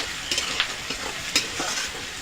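Chopped garlic and onion fry in a pan with a constant hissing sizzle. A few louder scraping strokes from stirring cut through now and then.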